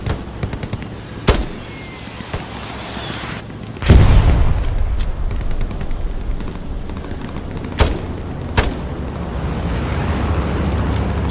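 A tank cannon fires in the Hell Let Loose battlefield game, one heavy boom standing out over a constant backdrop of distant gunfire and explosions, with other scattered sharp shots around it.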